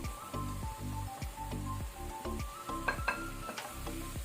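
Broccoli, about 300 grams of it, tipped into a hot pan and frying for a paneer broccoli dish, giving a steady loud sizzle with rhythmic stirring scrapes and small crackling pops throughout.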